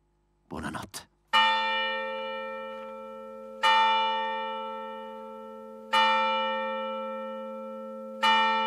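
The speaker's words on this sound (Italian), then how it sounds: "ascolta i tocchi del campanile" A church bell tower tolls in slow, evenly spaced strokes, four loud clear rings, each hum decaying before the next, after a brief soft noise at the start.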